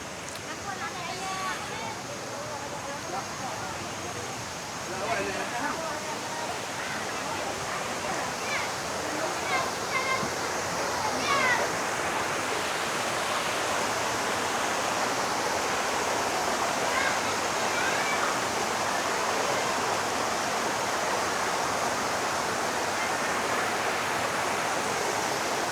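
River water rushing steadily at a riverside bathing spot after rain, a broad continuous hiss with people talking over it early on.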